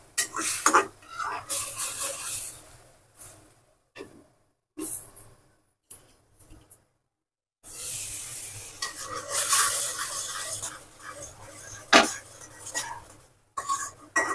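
Spice paste for a chicken curry being stirred and fried in a pot, with intermittent scraping and soft sizzling in bursts separated by short pauses.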